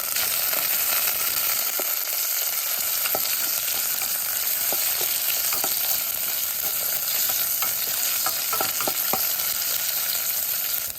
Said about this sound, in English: Onion, garlic, ginger. Stir that up for a little bit.